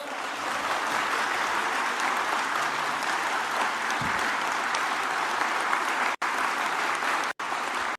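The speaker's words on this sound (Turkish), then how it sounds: "bayağı dakikalarca alkışladılar" Lawmakers in a parliamentary hall applaud Bahçeli's speech, a dense, steady roar of clapping that holds at full strength for the whole stretch, broken only by two abrupt momentary dropouts near the end.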